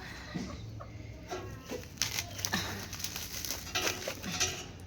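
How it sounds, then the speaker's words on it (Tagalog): Chickens cluck nearby in short, scattered calls at a home where a coconut is being opened, with occasional clinks of dishes or utensils in a quiet outdoor setting. "Ito ang mga manok na to eh."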